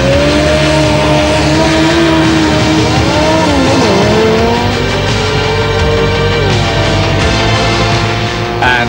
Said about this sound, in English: And this time, the Mazda wins to take on Muller in the semi-final.